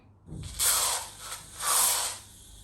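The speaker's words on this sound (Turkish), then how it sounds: "Tıraş köpüğünü sıkıyoruz böyle ama ben sıkmayı bilmiyorum" Shaving foam sprayed from an aerosol can while making slime, a short click followed by two hissing bursts with a pause between, close and clear, no talk.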